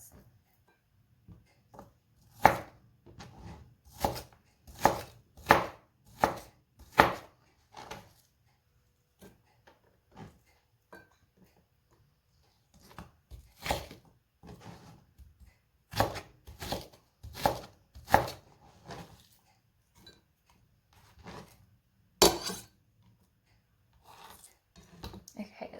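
Knife chopping ingredients on a cutting board for a pressure-canned pot roast, sharp clustered thuds arriving in quick bursts with pauses between, close and fairly loud, no talking.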